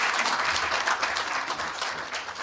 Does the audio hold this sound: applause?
yes